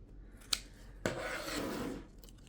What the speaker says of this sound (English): just use these little pinking scissors for curvy things